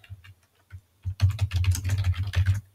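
Typing on a computer keyboard: a few quiet taps, then a quick, steady run of close clicking keystrokes that lasts to the end.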